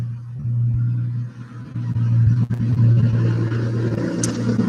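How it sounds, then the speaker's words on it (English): Heavy trucks rumble past on a busy road, a low engine drone swelling and fading as traffic goes by nearby. "I live on a busy road. I don't know if you can hear the"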